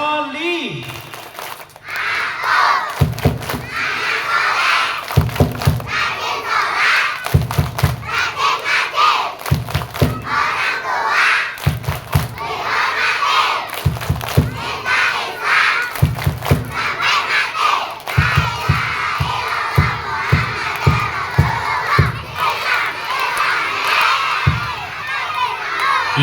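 A group of children at an Indonesian elementary school competition claps in rhythmic bursts while shouting the 'tepuk anak soleh' chant together, loud and close, with cheering between the claps.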